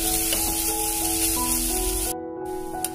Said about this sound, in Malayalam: ഈ തക്കാളിയൊക്കെ നന്നായിട്ട് വെന്ത് വരുന്നിടം വരെ നമുക്കൊന്ന് വഴറ്റിയെടുക്കാം.